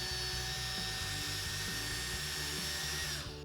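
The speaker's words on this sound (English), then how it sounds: "I'm going to braid it myself using the power of the drill." A handheld power drill whirs steadily as it twists wires together into a strong braided wire, a close, continuous motor hum with a faint rhythmic pulsing, winding down at the very end.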